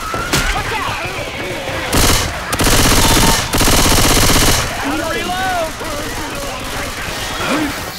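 Automatic gunfire in the Xbox 360 game Left 4 Dead 2, loud sustained bursts of rapid shots in two long volleys, with people talking before and after the shooting.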